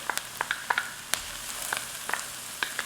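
Garlic goes into a pan of translucent frying onions for a keto taco casserole, making a soft steady sizzle broken by sharp scattered crackles and pops, close and fairly quiet.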